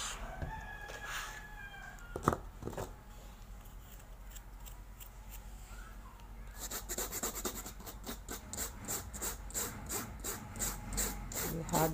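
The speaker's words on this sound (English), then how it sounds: "Had to brush it so that the dirt will be removed, like the excess clay we used in that." A brush scrubs dirt and excess clay off a diamond painting in a series of quick, close scratchy strokes, sparse at first and then faster and more rhythmic toward the end, with no talking.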